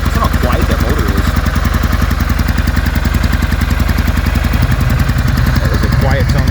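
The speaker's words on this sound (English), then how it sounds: "so listen how quiet that motor is." A brand-new 2024 Kawasaki W800 retro cruiser engine idles steadily at close range, a low, even, quiet pulsing throb that holds for the whole stretch with faint background noise.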